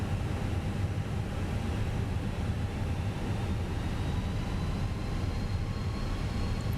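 Twin jet engines of a Fenix A320 airliner spool up on the runway for takeoff in Microsoft Flight Simulator 2020, a steady droning roar with faint tonal whine holding constant for about seven seconds, with no voices.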